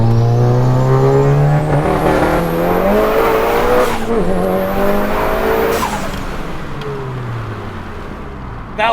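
A 700-horsepower big-turbo Audi S1 hot hatch accelerates hard through the revs, its loud engine note climbing steadily with a sharp drop at each gear change, heard close from inside the car.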